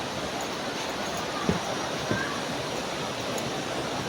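Daranak Falls in Tanay, Rizal, a broad, constant roar of falling water filling the scene, with a couple of faint short knocks or voices briefly over it.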